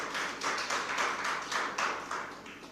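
An audience claps loudly, a dense, steady patter of many hands rising and falling in rhythmic swells throughout, with no voices.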